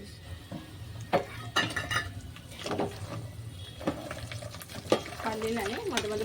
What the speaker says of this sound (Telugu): పల్లీలని మొదలు కలుపుకుంటూ ఫ్రై చేద్దామండి కలర్ వచ్చే వరకు.